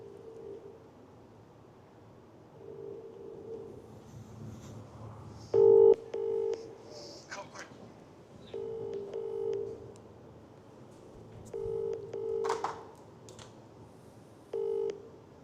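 Touch-tone keypad beeps on a phone dialing a prize winner's number during a live draw, several short bursts of paired tones in quick clusters, clear and close over a faint background hum.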